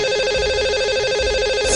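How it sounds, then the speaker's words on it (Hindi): A telephone ringback tone warbles steadily and loudly as a call is placed to a radio show's lucky caller, a continuous electronic ring with no talk over it. "आइए उन्हें सबसे पहले फोन लगाते हैं"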